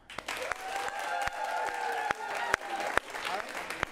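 An improv comedy audience in Portland claps to vote for a film, with scattered sharp individual claps and a tonal hum running under them.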